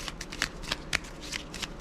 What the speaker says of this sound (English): We'll give them another quick shuffle here,